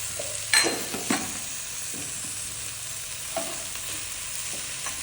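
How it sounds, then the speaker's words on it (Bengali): Tomatoes and mung dal sauté in a hot pan, giving a steady close sizzle with a few sharp scraping stirs near the start and occasional softer stirs later, with no talk. "ডালের সাথে টমেটো দিয়ে কষিয়ে নেব আমি এখানে দুটো টমেটো দিয়ে দিচ্ছি"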